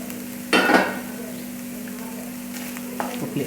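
Egg bhurji cooks in a pan with a soft, continuous sizzle and a steady hum, broken by a loud scraping stir of a spoon against the pan early on and a few lighter clinks later.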